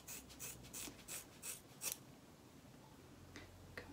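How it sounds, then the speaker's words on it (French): Hairdressing scissors snip through hair at close range in a quick run of about eight crisp cuts, then pause before a few more sharp snips, with no talking. "Je prends mon ciseau, donc j'ai des ciseaux de coiffeur."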